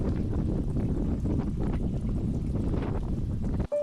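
Strong, steady wind buffets the microphone on a cloudy volcanic mountain walk in Tongariro National Park, New Zealand, a loud continuous low roar with no talk.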